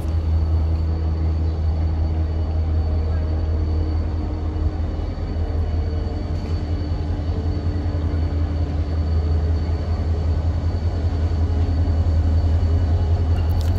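A Renfe freight grain train passes on Spanish track between Salamanca and Valladolid, a loud steady low rumble with continuous rolling noise throughout, no voices.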